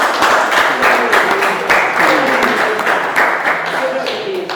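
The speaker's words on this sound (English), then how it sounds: "Can I give him a round of applause?" An audience at an airport announcement event on Anegada applauds a newly named aviation director, steady clapping with voices murmuring underneath throughout.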